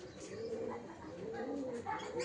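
A domestic dove coos softly in its bird house, a few low rounded coos repeating in an unhurried rhythm, faint and somewhat distant against quiet background noise.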